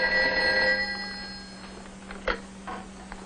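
A telephone rings with a bright electronic trill at first, then fades to a quiet hum with a couple of faint clicks.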